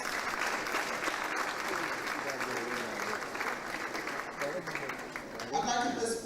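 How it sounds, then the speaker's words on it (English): Steady crowd applause at a constitution review committee meeting fills the space, a dense continuous clatter of clapping at even loudness throughout, with a few voices rising briefly near the end. "Please, let's hear a round of applause for Professor Daka C.J. Dakas."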